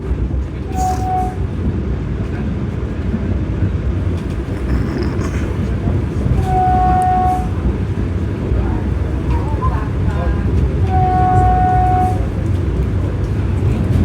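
Avadh Assam Express passing on an Indian railway line, a steady loud rumble of rolling wagons throughout with a few short horn-like tones standing out above it.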